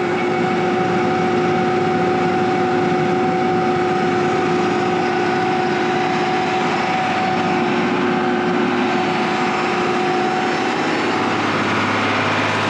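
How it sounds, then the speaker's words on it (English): A tractor engine idles steadily and loudly up close, a constant droning hum with a steady tonal whine and no changes in pace. "All right, tractor's idled up, cord's hooked up."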